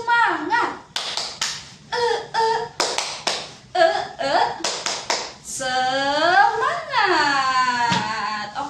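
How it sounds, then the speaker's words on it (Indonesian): Indonesian fourth-grade schoolchildren perform a rhythmic spirit clap in class, sharp claps falling in quick patterned bursts with short gaps between them, alongside children's chanting voices and a longer sung or shouted stretch toward the end. "yuk kita tepuk semangat biar tambah semangat lagi"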